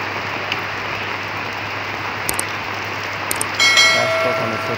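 Steady rain falls on a farm with jackfruit trees and cattle, a dense even hiss throughout with a few brief louder knocks and a faint tonal whine near the end.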